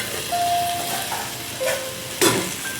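Tomatoes sauté in a pan for a kovakkai egg poriyal, giving a soft, steady sizzle close by. A few brief stirring scrapes and clinks stand out above it.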